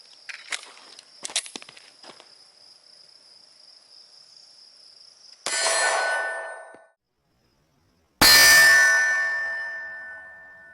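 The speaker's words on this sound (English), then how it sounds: "Let's step it up to 9mm out of my Glock" A 9mm round from a Glock 43X strikes a Level 3 ballistic armor plate outdoors with a single sharp, loud metallic crack. It rings out and decays, following an earlier clang, while insects chirp faintly in the background.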